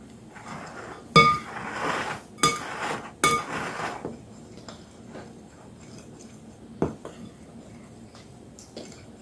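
A utensil clinks and scrapes against a bowl while dry ingredients for Irish soda bread are mixed, several sharp knocks early and then quieter sporadic taps.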